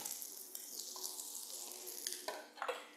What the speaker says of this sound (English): The pan is hot, so therefore I put the torch on top, adding the onions